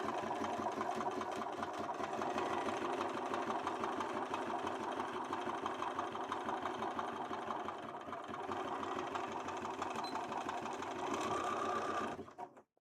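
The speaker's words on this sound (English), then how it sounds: "I'm just going to sew this onto the other boot cover." A sewing machine runs steadily, stitching a Link boot cover for a Legend of Zelda: Twilight Princess cosplay. The close, loud motor whir continues unbroken for about twelve seconds, then stops abruptly.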